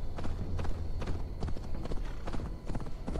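Horse hooves clip-clop at a steady trot in Assassin's Creed Valhalla, loud and close, with irregular impacts over a low rumbling game soundscape.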